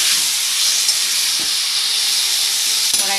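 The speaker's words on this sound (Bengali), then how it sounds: "মাংসটা আমি গ্যাসটা কম করে দিয়ে মাংসটা কষতে থাকবো" Chicken meat fries in a pan on a low gas flame with a dense, unbroken sizzle and hiss that stays close and loud the whole time.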